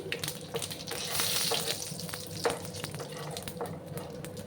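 Cinnamon pieces, cracked cardamom pods and whole cumin tempering in hot oil, a steady crackling sizzle with occasional stirring scrapes and pops, close and continuous with no talking.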